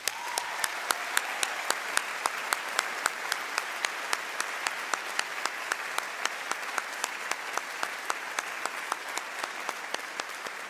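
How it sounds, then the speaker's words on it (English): An honors convocation audience applauds the day's award winners with a long, even round of clapping, a few sharp louder claps standing out in a regular rhythm above the steady crowd noise. "Now let's give another round of applause for all of today's award winners."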